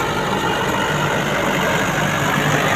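A tractor engine chugs along at slow speed while ploughing a village field for an oat sowing, a steady, even drone held close and constant throughout with no talking.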